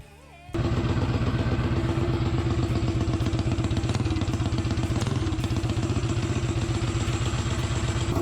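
A small mini bike engine fires up and runs hard through its exhaust with a buzzing, rattly drone, holding a steady high pitch close by for several seconds.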